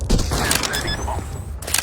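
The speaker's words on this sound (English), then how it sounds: "Planting the bomb." Planting the bomb in Counter-Strike: Global Offensive brings a run of faint electronic beeps and mechanical clicks over busy game background noise, ending in a short sharp burst.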